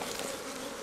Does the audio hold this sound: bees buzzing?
yes